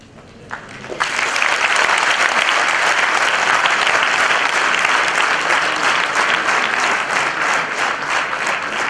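An audience at a talk breaks into loud, sustained applause for a speaker, the clapping swelling in after a second and continuing as a dense roar of hands for the rest of the stretch with no voices over it.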